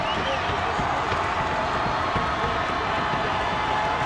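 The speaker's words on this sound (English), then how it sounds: "I love this energetic crowd" A large energetic crowd fills an indoor arena at a college basketball game between Stephen F Austin and Sam Houston, a constant dense roar of voices and cheering with faint squeaks and bounces underneath.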